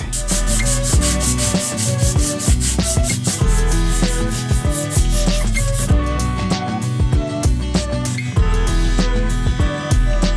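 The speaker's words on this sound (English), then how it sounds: "So just a good amount of sanding with some 60 grit" Steady, continuous scraping and rubbing of 60-grit sandpaper on a metal brake drum, loud and close, with rhythmic strokes throughout.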